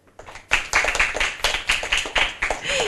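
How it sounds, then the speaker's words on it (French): A small audience on a book-presentation show claps in a short, uneven burst after a brief quiet start, with individual hand claps standing out close and distinct. "On applaudit Clara."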